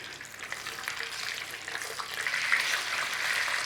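Sausages frying gently in a one-pot dish of chicken and sausage, a steady soft sizzle and crackle that rises slightly toward the end, with no talking.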